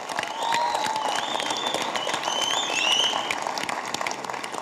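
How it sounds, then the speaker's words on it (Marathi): An audience claps steadily for performers at a special episode shoot for an event, a dense and moderately loud wash of applause with a few faint whistle-like tones above it. "जोरदार टाळ्या आमच्या कलाकारांसाठी झाल्या पाहिजेत"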